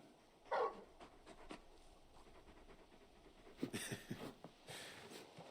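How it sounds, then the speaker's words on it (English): A large dog pants in Final Fantasy XVI, giving quiet, breathy bursts with a louder cluster near the start and more toward the end, over soft background sound. "You're just a big puppy, aren't you? A very big puppy."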